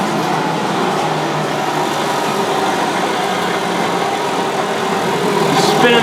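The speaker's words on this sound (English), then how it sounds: "There is a blower." A blower running on a Hendey lathe, a steady loud whirring drone that holds even throughout, with no talking.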